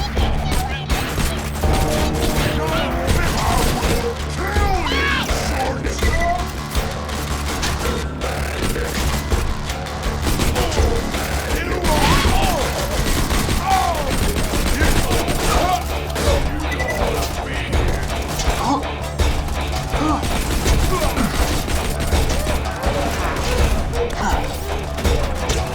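Dense, continuous gunfire and explosions from the Borderlands 2 shooter fill the whole stretch, loud and chaotic, with crashes and impacts layered under occasional voices.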